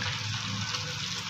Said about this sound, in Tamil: நார்மல் வாட்டரில் கொஞ்சமாக அலாசி எடுத்து வைக்க போகிறோம்.